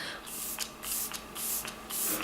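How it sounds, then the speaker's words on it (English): Cover FX Illuminating Setting Spray misted from a pump bottle in four short, evenly spaced hissing bursts, close and clear with no talking. "I'm going to spray it with the Cover FX Illuminating Setting Spray"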